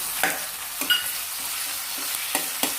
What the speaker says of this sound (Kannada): ಎಲ್ಲ ಸ್ವಲ್ಪ ಸುದಗಿಸ್ಕೋಬೇಕು ಅಂದರೆ ಸ್ವಲ್ಪ ಫ್ರೈ ಮಾಡ್ಕೋಬೇಕು